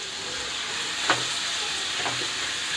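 Mango pieces dropped into a pan of frying small fish curry, a steady loud sizzle and hiss with a couple of brief stirring scrapes, no voices.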